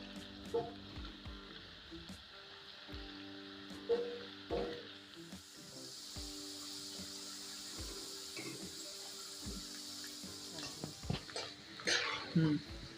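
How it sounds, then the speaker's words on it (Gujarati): Oil sizzles steadily in a pan as potatoes fry until light brown, with occasional clinks and scrapes of a utensil stirring against metal. "બટેકાને આપણે તેલની અંદર હળવા હાથ હલાવી અને સરસ રીતના તળી લઈશું"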